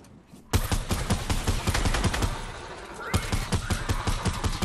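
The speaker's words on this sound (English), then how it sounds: "I can hear someone shooting." Rapid bursts of automatic gunfire rattle through a video game match, with a dense volley at first, a short lull, then more sharp shots crackling and echoing at mid distance, no voices over them.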